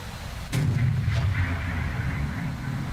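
A bomb detonates in the War Thunder air battle, a sharp blast onset followed by a heavy, sustained low rumble that rolls on under the continuous game noise.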